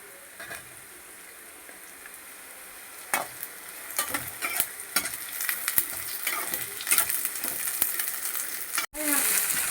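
Onions and capsicum frying in a pan for mutton ghee roast, steady sizzle broken by clinking stirs of a spoon against the pan, close and clear, with no talking.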